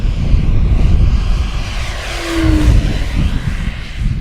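A Flightline 1600mm Corsair RC model airplane on 6S lipo power makes a fast, loud propeller-and-motor pass close overhead, its whine shifting in pitch as it goes by.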